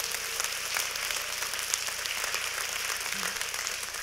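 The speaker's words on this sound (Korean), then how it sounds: "박수 한번 주시죠." An audience applauds at a live talk, a dense and even wash of many hands clapping that holds steady throughout without fading.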